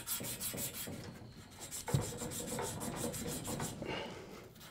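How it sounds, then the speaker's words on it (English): Sandpaper rubbed around a copper pipe while replacing a shut-off valve, a soft rhythmic rasping back and forth, faint and close, with one brief knock midway. "this is a good time to use the sandpaper"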